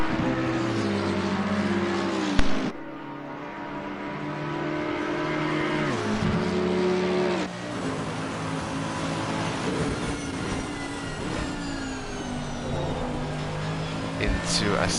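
Racing car engines from a Mercedes and a McLaren roar past at Monza, steady high-revving tones that rise and fall with gear changes, under continuous commentary.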